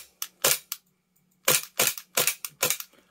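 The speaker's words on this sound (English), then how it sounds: "Empty the mag, but isn't enough gas to lock it back." An Armorer Works VX0200 Glock 18C gas airsoft pistol fires several sharp, snappy full-auto bursts of cracking shots with short pauses between them, close and loud against near silence.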